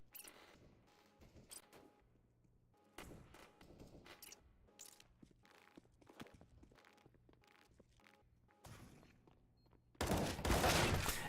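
Counter-Strike: Global Offensive gameplay on the Mirage map: scattered footsteps and single gunshots ring out, ending in a loud, dense burst of rapid gunfire.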